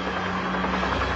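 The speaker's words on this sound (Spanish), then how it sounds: "Es un helicóptero, no hay problema." A helicopter drones as a steady, loud, low rotor and engine rumble with no break, nearby and alone.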